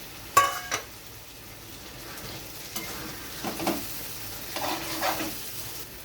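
Chicken mince dropped into spiced oil and stirred in a pan, a soft continuous sizzle with a sharp utensil knock at the start and intermittent scraping stirs, close and fairly quiet, no talking.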